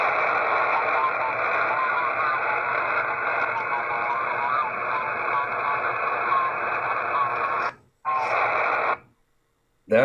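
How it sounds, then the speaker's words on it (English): Single sideband radio transmission heard inside a Vietnam War era Military Affiliate Radio System bunker, a loud, continuous garbled warbling hiss that runs steadily, then cuts out briefly near the end. "That is the sound of single sideband."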